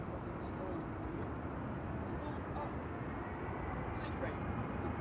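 An Embraer Phenom 300 business jet departs Amsterdam Schiphol Airport in a steady, distant engine roar, with a voice talking faintly over it.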